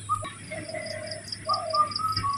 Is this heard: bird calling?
yes